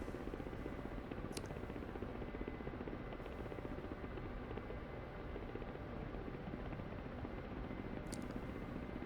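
Ka-50 helicopter engine in the DCS flight simulator, a steady broadband turbine roar and rotor drone running throughout with little change in level, joined by two brief high clicks.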